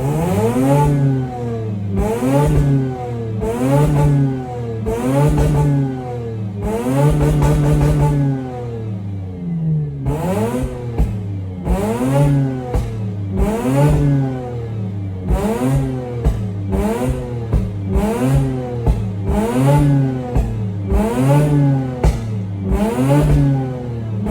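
A 2004 Mazda RX-8 track car's rotary engine with an idle problem revs again and again in a steady rising-and-falling pattern, loud and close, with a brief higher roar partway through.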